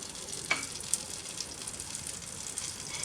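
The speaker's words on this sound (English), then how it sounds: "Now we will wait for our butter to melt." Butter melting in a pan, a faint steady sizzle with a couple of small clicks, heard alone without talk.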